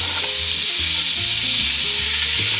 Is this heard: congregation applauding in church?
no